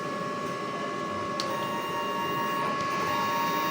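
A DTF printer whirs steadily during a print head cleaning, with a constant mechanical hum and faint high whine, a couple of soft clicks breaking the drone.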